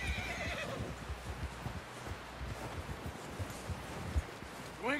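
A horse in Red Dead Redemption 2 whinnies loudly at the start and again at the end, with hooves clopping steadily in between over wind and rustling outdoor ambience.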